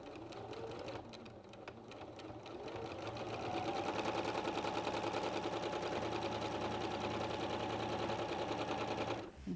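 A domestic sewing machine does free-motion stitching with a steady, fast, buzzing mechanical whir that speeds up and grows louder partway through, then stops abruptly at the end; heard close and alone.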